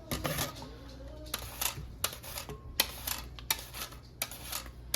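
Knife chopping cucumbers into quarter-inch slices for bread and butter pickles, giving sharp, evenly spaced clicks against a cutting board, about six or seven cuts, close and fairly crisp in a quiet kitchen.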